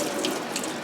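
Tap water runs steadily into a sink while a bowl used for washing raw sheep wool is rinsed out, a close, continuous splashing flow with no voices.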